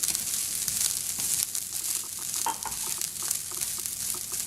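Onions frying in a pan for Cantonese fried rice give off a dense, even hiss at close range, with faint crackles and light stirring scrapes running through it.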